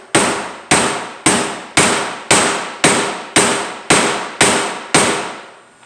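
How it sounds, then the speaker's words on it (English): Plugs are hammered into holes in a panel with a hammer and tool, giving ten loud, sharp metallic strikes at an even, steady rhythm with brief ringing decays between them, and no talk. "you just go on ahead and hammer these on in"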